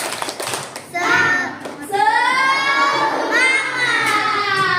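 Children chant together in a classroom clapping cheer called tepuk semangat, loud sung voices with rhythmic hand claps mixed in, close and crowded.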